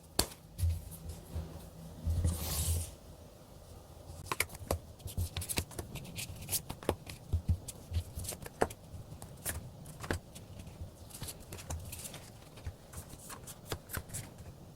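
Tarot cards being shuffled and drawn by hand, with repeated riffling bursts and soft papery slaps and clicks continuing steadily throughout, close and fairly quiet with no talking.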